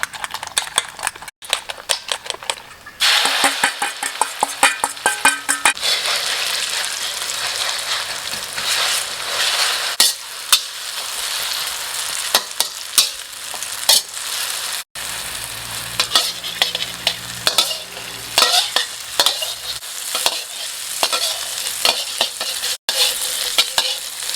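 Steady loud frying and sizzling of an egg omelette with chopped cha-om in a pan, with scraping and stirring clatter from a utensil throughout.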